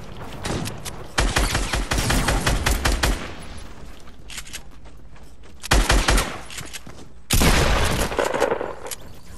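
Bursts of video game gunfire crack out in rapid automatic volleys, loud and close, with short pauses between strings of shots.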